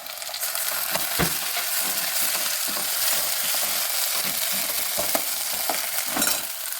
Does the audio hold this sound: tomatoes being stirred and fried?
yes